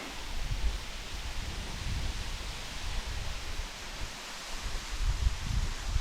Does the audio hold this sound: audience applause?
no